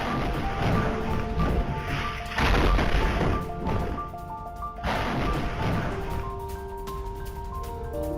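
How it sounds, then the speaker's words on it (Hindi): Loud crashing bursts near a ship, one heavy blast followed by another a couple of seconds later, with rumbling noise and a lingering tone between them. "हमले में जहाज के पास हुआ बड़ा धमाका।"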